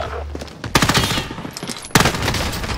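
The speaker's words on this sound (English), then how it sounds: "You gotta be kidding me with this fucking sentry gun!" Sentry gun in a video game letting off two loud bursts of rapid automatic fire, each lasting under a second, with a quieter low hum before them.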